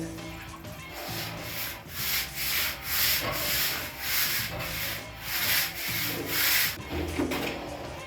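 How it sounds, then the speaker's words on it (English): A scrub brush scrubs the inside walls of a rainwater cistern in repeated rhythmic strokes, a close, steady rasping scour with slight hollow echo and no talking. "I'm just gonna take my scrub brush, dip it, and I'm just gonna scrub it."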